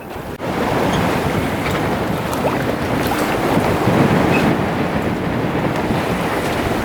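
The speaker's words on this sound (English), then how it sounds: "it's stirring up the waves and the water" Open-sea waves churn and slosh around a sailboat underway while it trails a tuna teaser, a loud, close, continuous wash with wind buffeting the microphone and no voices.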